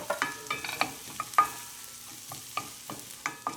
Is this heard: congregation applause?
no